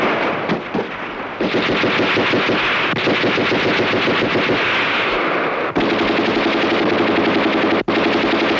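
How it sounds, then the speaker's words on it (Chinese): A machine gun fires in sustained loud bursts during a battle scene in a 1975 Chinese war film from Changchun Film Studio. The dense rattling is nearly continuous, with only brief breaks. "机枪。"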